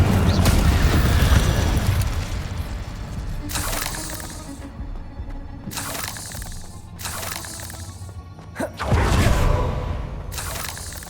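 Fire spells cast in the game Hogwarts Legacy, a run of loud whooshing bursts and booms, several sharp blasts separated by short gaps over a dense game soundscape, with no one talking.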